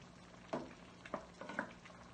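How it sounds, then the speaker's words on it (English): Broth for paella boiling in the pan, a soft bubbling and sizzling bed with a few louder pops and stirring clatters, quiet and close, without talk. "so the broth is boiling away there"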